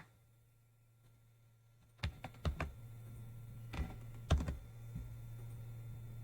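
Keys on a computer keyboard are tapped in two short bursts as a taxpayer ID number is entered, the clicks crisp and close over a faint steady hum in a quiet room.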